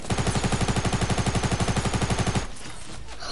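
Automatic gunfire in the video game Fortnite: a loud, rapid burst of evenly spaced shots lasting about two and a half seconds, then cutting off into a quieter game background.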